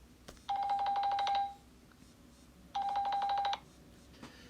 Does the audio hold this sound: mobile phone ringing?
yes